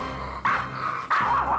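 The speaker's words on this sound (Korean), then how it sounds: "맹렬하게 짖으며 노려봅니다." A house dog barks fiercely at a visiting relative, two sharp, loud barks about half a second apart, close and indoors.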